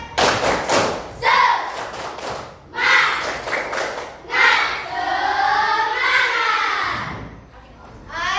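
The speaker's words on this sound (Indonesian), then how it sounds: "Tepuk semangat." Grade 6 class performing a rhythmic 'tepuk semangat' spirit clap: bursts of sharp claps and thuds mixed with children chanting in unison, loud and near, in short repeated phrases.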